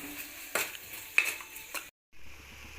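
Lololikka pickle being stirred with chilli, asafoetida, fenugreek and turmeric powders, a few scraping spoon strokes and clinks against the vessel, close and moderate, ending in a brief silence.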